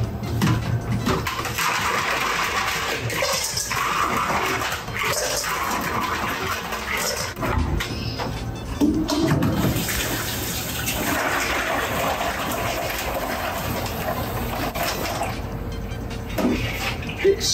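Tap water running and splashing while hot water and ice water are prepared in a kitchen, a steady rushing flow with clattering bumps and a faint background voice.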